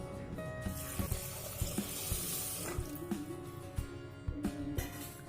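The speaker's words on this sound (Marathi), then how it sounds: "त्याच भांड्याने मी अर्ध भांड पाणी घेतलेलं आहे" Water gushes from a tap into a metal pot as half a vessel is filled for sugar syrup for gulab jamun, a steady close splashing stream with light clinks of the pot.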